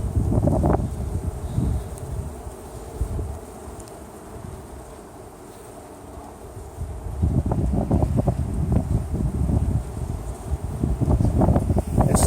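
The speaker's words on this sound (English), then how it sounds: "Kind of windy," Gusty wind buffets the microphone in low rumbling bursts beside a beehive, easing in the middle then picking up again, with a faint insect hum behind it.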